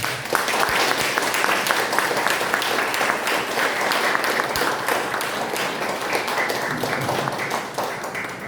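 Sustained audience applause greets an invited elderly local history and culture scholar at an anniversary talk event, a steady dense clapping that carries evenly for the full length with no voices over it.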